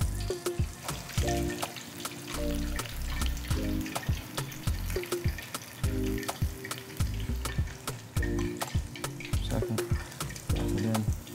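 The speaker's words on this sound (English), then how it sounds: "Now the frying, this is beautiful." Ricotta-stuffed squash blossoms frying in hot oil, a loud continuous sizzle and crackle close up, with rhythmic clatter and bursts of bubbling as they are moved in the pan.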